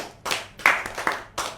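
Several short, sharp bursts of hand clapping from a small audience, irregular and fairly close, with no talking.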